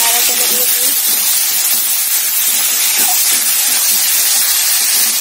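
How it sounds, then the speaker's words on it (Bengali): Bottle gourd peels and green chilies dropped into hot oil give a loud, dense, continuous hiss and crackle, close up and unbroken throughout. "তেলটা গরম হয়ে গেছে, এখন লাউয়ের খোসাগুলি দিয়ে দিচ্ছি, দিয়ে দিচ্ছি কাঁচা লঙ্কা"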